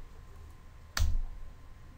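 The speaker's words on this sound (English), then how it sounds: "click delete on your DEL on your keyboard" A single sharp press of the Delete key on a computer keyboard, one close click with a low thump, standing alone against faint background hiss.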